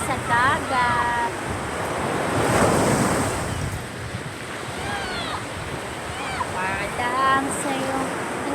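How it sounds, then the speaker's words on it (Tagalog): Sea surf rolling onto a beach, a continuous close wash of waves with heavy wind buffeting the microphone, while voices chatter over it. "Dito na naman kami sa dagat"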